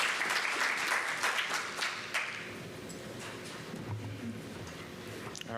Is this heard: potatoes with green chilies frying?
no